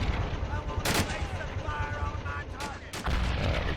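Bursts of gunfire and machine-gun fire from a World War II battle for Saipan in the video game Men of War: Assault Squad, dense and continuous under a speaking voice.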